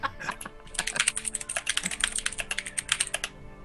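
Rapid typing on a mechanical computer keyboard, a dense run of sharp, close clicks and clacks in uneven bursts, loud and continuous with no speech over it.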